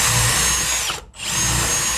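A power drill countersinks screw holes in wood for the sides and bottom of a firework mortar rack, held in a jig: two close, loud whirring bursts split by a brief pause.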